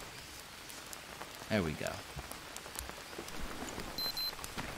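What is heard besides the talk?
rain in Green Hell video game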